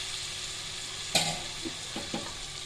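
Tomato masala for a crab gravy being stirred in a pan, a steady background sizzle broken by a sharp scrape of the spoon and a few softer knocks against the pan, with no talking.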